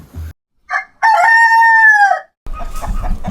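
A rooster crows once, loud and close, its long drawn-out call rising then falling, with a brief cluck before and muffled noise after.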